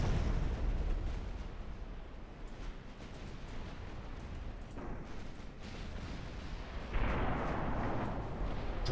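Naval artillery from battleships in the Ultimate Admiral: Dreadnoughts game rumbles as a dense, continuous barrage of booming gunfire, with a sharper burst of shots near the end.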